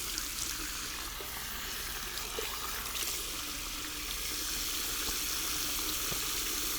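Water runs steadily from a tap while a face is rinsed during a wet shave with a shavette razor, a soft continuous hiss at moderate distance with no talking.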